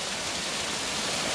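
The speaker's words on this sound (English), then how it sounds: "as you can see it's raining" Rain falls outdoors in a steady, dense hiss with no breaks, close and fairly loud, with no voices over it.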